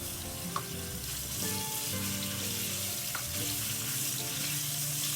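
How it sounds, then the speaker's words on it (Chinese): Minced meat is stir-fried in hot oil in a wok, a continuous close sizzle and crackle with occasional scraping and clinks of the spatula as it is tossed quickly. "快速翻炒至肉末变色。"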